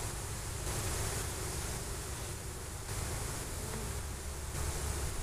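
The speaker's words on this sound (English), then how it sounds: "seems to be more bees on the outside of the box" Honeybees from a caught swarm crowd the outside of a nuc box, giving a steady, dense buzzing hum that holds evenly throughout without pause.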